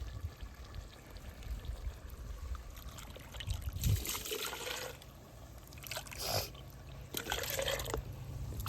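Water is poured by the glass into rice for boti biryani cooking outdoors on farm land, a moderate trickling and splashing in uneven bursts against steady outdoor background noise.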